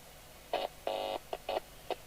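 A Midland 77-805UK Port-A-Pak CB radio on test, picked up by a nearby monitor receiver, gives short tone bursts in an uneven pattern of beeps and one longer tone, faint over low background hiss.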